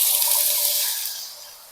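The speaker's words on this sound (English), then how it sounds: "I'm gonna dump off some of the oil" Cooking oil is poured out of a pan, giving a steady, close, hissing splash that slowly fades out over about two seconds, with no talking.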